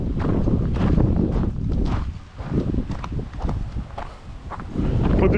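Spring wind sweeping across the island of Pag in Croatia, a steady low rumble buffeting the microphone with gusts rising and falling, mixed with faint footsteps on the ground.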